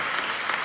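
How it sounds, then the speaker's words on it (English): An audience breaks into dense, continuous applause, a loud burst of many hands clapping at once. "I think we need to give this guy a big round of applause"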